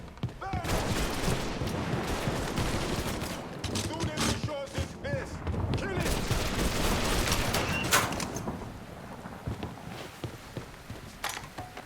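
Rapid bursts of gunfire from a Mafia 3 shootout, dense and continuous with sharp shots throughout, mixed with shouted talk over the fighting.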